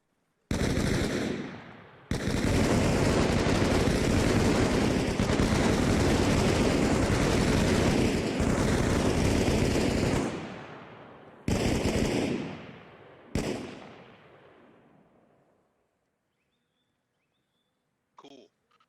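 Rifles firing in long, dense overlapping bursts on a firing range in the Arma Reforger game, loud and continuous for several seconds, then a few shorter volleys that trail off into silence.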